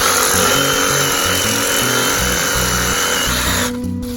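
A loud power tool drones steadily up close as it cuts through sharp-edged yucca palm limbs, then the whine drops off slightly near the end, with no voices.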